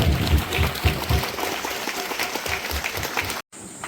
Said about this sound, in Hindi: पुनः जोरदार तालियां।